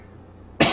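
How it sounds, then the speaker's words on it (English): A single sudden, loud human sneeze bursts out at the very end after near silence, close and brief. "Excuse me, I'm about to sneeze."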